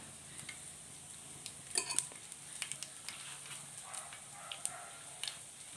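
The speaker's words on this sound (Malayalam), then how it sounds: "കടുക് അവിടെ പൊട്ടട്ടെ നന്നായിട്ട്" Mustard seeds crackle and pop in hot oil in a pan for a bitter gourd curry, a scattered run of sharp little snaps with one denser burst, close by and quiet, with no voice.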